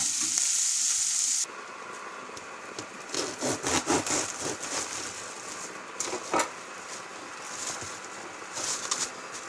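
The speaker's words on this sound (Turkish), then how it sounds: "Bunlar böyle güzelce kızaracak" Chicken döner meat fries in a pan with a steady sizzle, broken by bursts of scraping and stirring as the pieces are turned, close and moderately loud with no talking.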